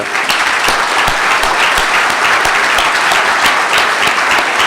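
Audience applause at a cocktail launch evening for an international summit, dense steady clapping from a crowd, loud and continuous throughout with no talk over it.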